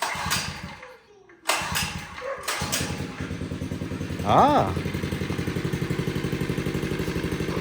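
Small engine cranking after parts were swapped from a worn-out engine with no compression, catching and settling into a steady close idle with a rhythmic putter, a voice talking briefly over it.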